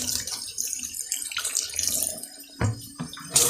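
Tap water runs steadily into a sink while equipment used for growing bean sprouts in a basket is washed, with sloshing and splashing surges near the close, no talk over it.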